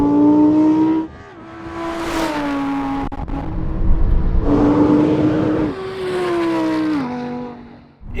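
A Lamborghini Huracan Performante and a Porsche 911 Turbo S launch hard in a drag race, engines roaring loudly through rising gear-by-gear revs with brief shift dips, close and continuous throughout.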